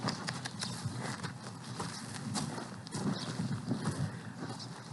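Horse hooves clip-clop steadily on a hard surface, faint and fairly distant, with soft background noise throughout.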